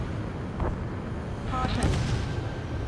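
Missile launches and explosions rumble in the Ace Combat 7 flight combat game, a loud continuous low roar with a couple of rushing swells, while game radio voices talk over it.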